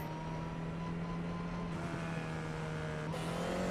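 A Formula race car in iRacing VR laps a track through the German countryside, its engine a steady, loud, continuous drone with a strong sustained tone and brief shifts in pitch, heard alone without talk.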